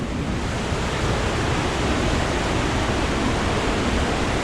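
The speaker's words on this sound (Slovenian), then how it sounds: "že izvirček reke Soče. Tukaj začne svojo pot ta" Water pours steadily at the spring source of the Soča river, a dense, even rushing wash that stays constant and loud throughout, with no voices.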